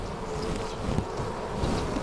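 Honeybees buzz steadily at an open beehive, a dense, continuous drone that stays close and even throughout, with no voices present.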